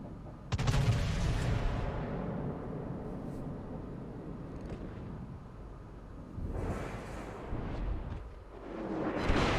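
Artillery fire in a World of Tanks-style video game, a loud cannon blast followed by a long rumbling decay, then further heavy shots and booms.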